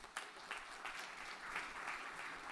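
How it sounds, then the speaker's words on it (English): An audience at a forum on adaptation in Africa claps after a speech, steady dense applause with many hands at moderate distance, continuous for a couple of seconds without talk. "Can we have a round of applause again for Professor Verkooijen's remarks?"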